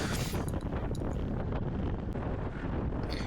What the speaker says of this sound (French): Donc là c'est vraiment vent de face